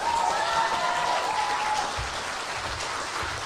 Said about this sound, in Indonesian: Tepuk tangannya dong sekali lagi.